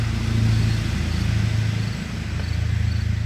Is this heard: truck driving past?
yes